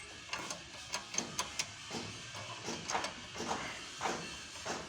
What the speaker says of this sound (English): These ones you also have to remove them. So I'll bring my spanner and do it.